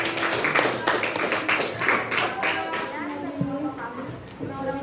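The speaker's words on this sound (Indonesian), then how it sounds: "Sekarang berikan tepuk tangan dulu untuk kelompok ini." A school class claps for a group of classmates after a maths presentation, a steady patter of many hands for about two seconds that fades out as a voice begins speaking.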